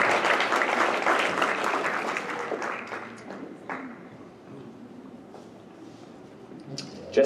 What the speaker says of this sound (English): let's give a little bit of round of applause for a beautiful baby girl